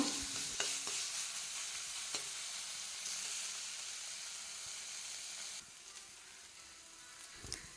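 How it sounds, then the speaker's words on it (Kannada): Onions fry in a pan with chopped jackfruit, a faint, steady sizzle and hiss that runs throughout, broken by a few soft scraping strokes of stirring. "ಜಸ್ಟ್ ಮಿಕ್ಸ್ ಆಗೋ ತನಕ ಸ್ವಲ್ಪ ಫ್ರೈ ಆದರೆ ಸಾಕು"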